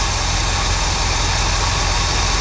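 A 1969 Mercury Monterey V8 idles steadily at close range, a continuous low rumble with a fast, even pulse and broad mechanical hiss. Its timing sits at zero degrees, with no voices present.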